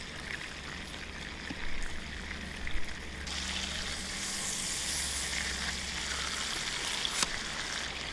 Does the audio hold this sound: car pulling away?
no